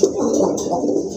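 A pair of pigeons with mili-coloured plumage, crested heads and pearl eyes coos loud and close in one continuous, throaty warble.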